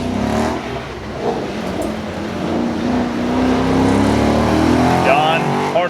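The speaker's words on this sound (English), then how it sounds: "Don hard on the gas coming out of that first curve." Drag-style race car at the Carlisle Ford Nationals track, engine droning steadily and building as it accelerates hard out of a curve, loud and close, with an announcer talking over it.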